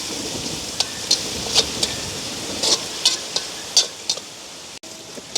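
Onions with curry leaves fry in a pan during village home cooking, with a soft hiss under sharp, irregular scrapes and taps of a spoon stirring.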